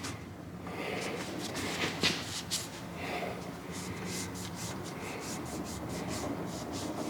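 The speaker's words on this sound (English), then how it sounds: "you find you some kind of rag, and you clean the edge off real good" Rag rubbing and wiping along the edge of a differential cover on a Nissan 350Z rear axle, a steady close scrubbing that runs continuously with a few brief louder swipes.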